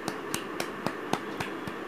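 Children in a kindergarten class clap their hands in about seven sharp, evenly spaced claps, fairly close and moderately loud, with no talking over them.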